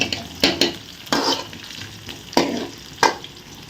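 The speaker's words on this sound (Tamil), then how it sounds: "வெங்காயம் வந்து பொறிஞ்சு வந்துட்டுருக்கு நம்ம அப்பப்போ கிளறி விட்டுக்கிட்டே இருக்கலாம்" Onions frying in oil for a fish curry, a steady sizzle broken by several loud scraping stirs of a spoon against the pan at irregular intervals.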